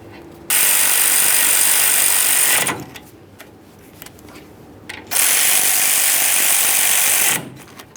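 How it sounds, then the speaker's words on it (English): A ratchet clicks rapidly in two long bursts, snugging the rear brake caliper mounting bolts on a 2015-2020 Ford F-150, close up, with a quieter pause between them. "We'll start in each of these two bolts, snug them up."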